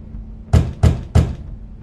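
Three firm knocks on a door in the video game The Wolf Among Us, evenly spaced and close, heard alone over a quiet low hum.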